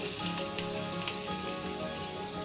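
Basmati rice sizzling in hot ghee in a pan with red chilies, curry leaves and hing, a steady close crackling hiss with brief brighter pops, no talking.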